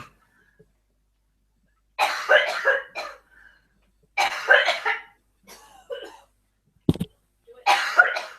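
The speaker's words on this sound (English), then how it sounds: "Oh, people are coughing on both sides." Harsh, close coughs come in several separate bursts, some doubled or tripled, with quiet gaps between and a brief throat-clearing sound near the end.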